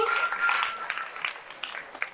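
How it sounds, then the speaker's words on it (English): An audience at a St Mariam's School quiz competition gives light, scattered applause. The claps start fairly lively and thin out into sparse individual claps. "Clap."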